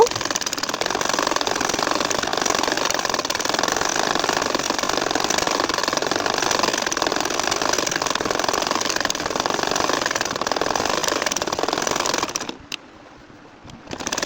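A domestic sewing machine runs continuously, stitching a nakshi kantha quilt, a steady close motor whir with rapid needle clatter that stops abruptly near the end.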